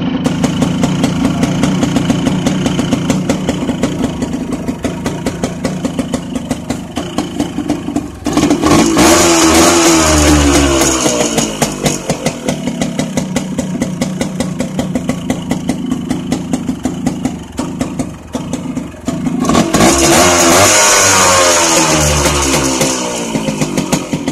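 A Yamaha RS100 motorcycle engine, just kick-started, idles steadily with a fast putter, rising twice into louder revs before settling back to idle.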